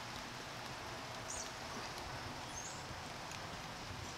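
Steady rain falls outdoors at a deck-building site, a soft even hiss that stays faint and unbroken throughout, with no voices.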